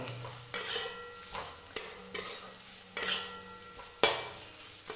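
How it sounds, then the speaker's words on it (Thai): Bitter gourd with salt and spices stir-fries in a pan, with a soft continuous sizzle broken by four or five sharp scrapes and clanks of a spatula against the pan, close up and with no talking. "แล้วเราก็คั่วต่อไป"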